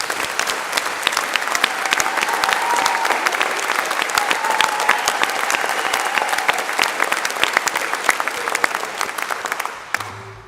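Sustained audience applause fills a graduation ceremony hall, a dense wash of many hands clapping steadily for about ten seconds before tapering off abruptly at the end.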